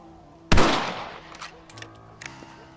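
A rifle shot in Red Dead Redemption: one sharp, loud report followed by a brief decaying echo and faint clicks and thumps of handling.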